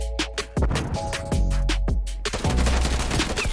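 Rapid Tec-9 SMG bursts in Call of Duty Cold War, loud and close, with fast repeated shots, short pauses, and a dense volley near the end over faint game ambience.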